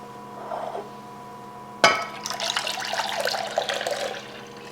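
Whole milk is poured into a pan for rice pudding, a sudden splash followed by a steady, gurgling liquid stream close by.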